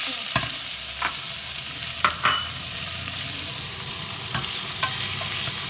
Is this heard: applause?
no